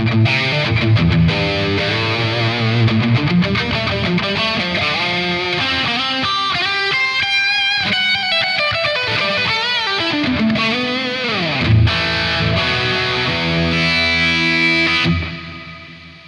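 Electric guitar played through a LEKATO Tank-G effects pedal with heavy distortion and a slow-closing noise gate: sustained, chord-rich riffs ring continuously and loud, with hiss under the notes, until the gate shuts the sound down near the end.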